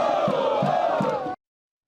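A large crowd of Corinthians football fans cheers and chants to welcome the champions, a loud, dense roar of voices with rhythmic shouted bursts that cuts off abruptly.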